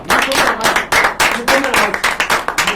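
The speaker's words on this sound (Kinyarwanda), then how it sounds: "Mukomera amashyi cyane." A crowd claps for Nyakso, a longtime churchgoer and choir member, in bursts of loud, close applause with rhythmic hand claps swelling and easing.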